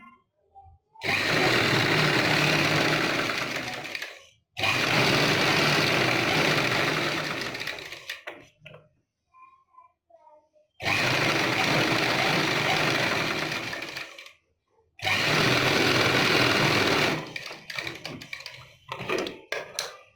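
A sewing machine stitching a back neck design on fabric runs in four loud, steady whirring bursts of a few seconds each, separated by short pauses with faint handling noises.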